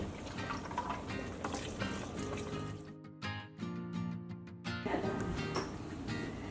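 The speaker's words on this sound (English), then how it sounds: "you can go ahead and just add some more water." Water is poured into a simmering pot of Tom Kha Gai broth, giving a steady liquid splash and trickle that carries on for several seconds and eases briefly toward the end, with no voices over it.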